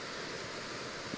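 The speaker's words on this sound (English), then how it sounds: "Creek's running good." A winter creek running steadily along a trail near a big meadow, a broad continuous rush of flowing water heard close and alone, with no talking.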